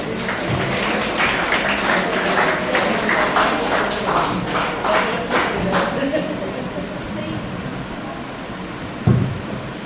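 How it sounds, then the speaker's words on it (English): Steady applause from a school audience fills most of the stretch, a broad wash of many hands clapping that fades toward the end with a thump. "A great round of applause."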